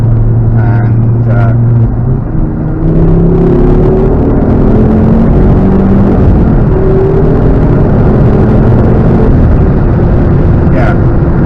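A Ford Focus ST Mk2 running Revo stage 2 software, held on a dyno, roars loudly and steadily for the whole stretch, its engine note climbing as it revs under load.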